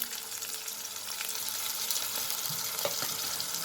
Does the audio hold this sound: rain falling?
no